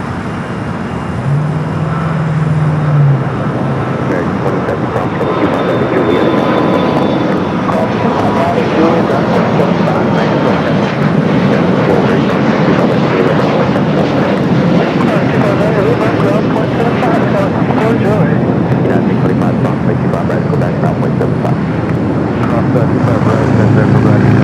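A Boeing 787-9 Dreamliner airliner at Los Angeles airport, its jet engines giving a loud, steady, broad roar that holds for the whole stretch, heard from outside with a voice commenting over it.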